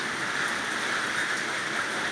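Steady rain falls in a continuous even hiss, pattering on surfaces outdoors around a tree, moderately loud with no voices.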